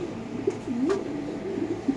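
Racer pigeons at a pigeon farm give a few soft, close coos with a rising and falling call, over a low background hum, with no talking.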